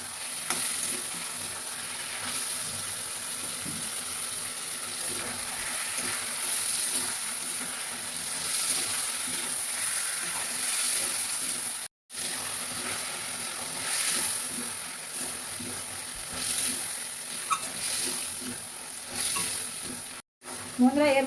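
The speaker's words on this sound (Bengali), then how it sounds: "মাছগুলো দিয়ে সুন্দর করে কষা করব।" Fish sizzles steadily as it fries in a pan with ginger paste, stirred now and then with soft scraping. The sizzle is loud and continuous, broken by two brief pauses.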